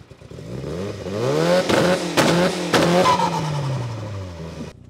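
A Mitsubishi Lancer Evolution VIII MR engine idles roughly and revs in uneven surges, close up, the pitch rising and falling with a choppy, lumpy rhythm.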